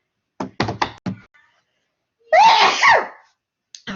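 A person at home sneezes loudly at close range, a burst in two quick parts, preceded by a few sharp knocks or thumps and followed by a brief faint sound.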